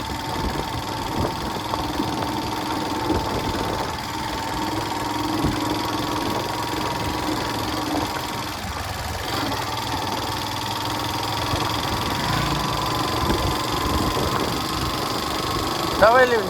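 A motorcycle engine runs at a steady, droning idle on a home-town ride, a close, continuous hum with a faint voice under it.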